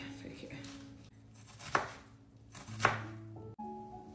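Knife chopping a white onion on a cutting board, two distinct sharp chops about a second apart followed by a softer knock, close and quiet with a low background hum and no talking.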